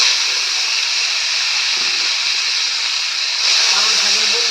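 Spinach dropped into a hot pan with garlic gives a loud, steady broadband sizzle that swells slightly partway through. It sounds close, with a faint voice briefly in the background.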